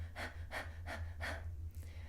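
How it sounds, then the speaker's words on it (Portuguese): A person demonstrating short, shallow panting breaths, four quick rhythmic huffs close to the microphone over a low steady hum, without any words. "A gente respira de forma mais curta e superficial."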